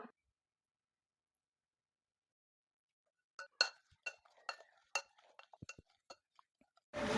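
Spices such as chili powder, chaat masala and salt being stirred together in a bowl: soft clinks and scrapes of a spoon against the dish in an irregular cluster after a long quiet stretch, close and faint.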